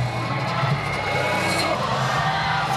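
Arena crowd at a pankration fighting match in South Korea, a loud, dense, continuous roar of cheering and shouting that stays steady throughout.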